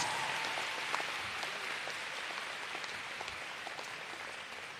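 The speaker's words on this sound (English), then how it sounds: "Give them a round of applause." Audience applause at the Caribbean Maritime University graduation ceremony, a soft, even patter of many hands heard from a distance, steady throughout with no voices.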